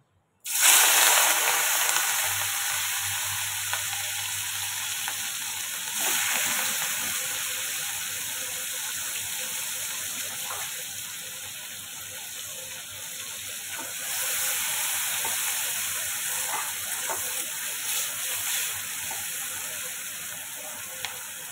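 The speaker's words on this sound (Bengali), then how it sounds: "আগে আমি চিংড়ি মাছটা ভেজে নেব।" Shrimp fry in hot oil in a home kitchen pan, giving a steady, close crackling sizzle that runs unbroken for twenty seconds, swelling and easing slightly, with a faint low hum beneath.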